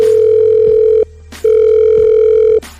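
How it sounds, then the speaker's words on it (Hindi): Telephone failing to connect, sounding two loud, steady electronic tones, each about a second long with a short gap between them, clicks at the breaks and a low hum underneath. "फोन क्यों नहीं लग रहा?"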